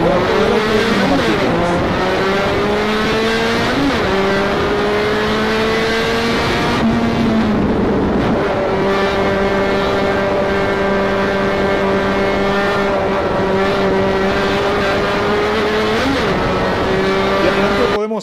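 Monomarca race cars, including number 17, scream past on the circuit one after another with loud, sustained high-revving engine whines that rise and fall as they pass, and faint tire squeal.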